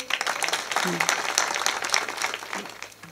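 Audience at a Marathi devotional kirtan gathering clapping in a loud, sustained burst of applause lasting several seconds, with a speaker's voice heard over it.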